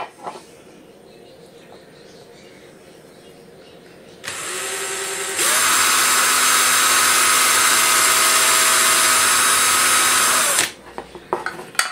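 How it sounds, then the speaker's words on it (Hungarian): A power drill bores into thick, hard plastic, whining at low speed before a brief pause, then running loud and steady at full speed for several seconds before cutting off. "Fúrógép."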